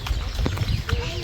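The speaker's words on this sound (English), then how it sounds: "I see a horse." Clip-clop of a Soviet draft horse's hooves at a Russian stud farm, a few soft irregular steps close by, mixed with faint background sounds and quiet voices talking.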